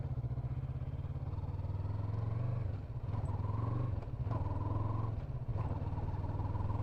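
A Yamaha MT-03 motorcycle rolls at low speed in sixth gear, its engine a steady low throb close by, with brief dips and clatter where the throttle eases before pulling again.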